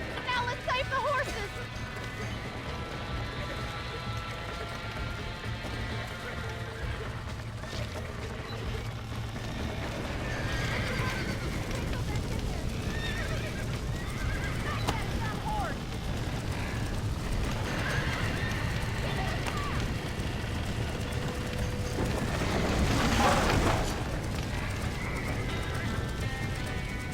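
Several horses gallop and neigh in Red Dead Redemption on PS5, hooves drumming continuously beneath occasional whinnies, with game sound and music in the background and a swell of activity near the end.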